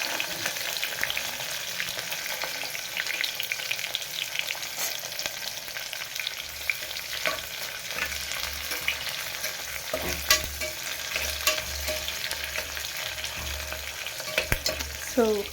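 Onions and chillies fry and sizzle steadily in a pan, with a continuous close crackle and occasional stirring scrapes throughout, no talking.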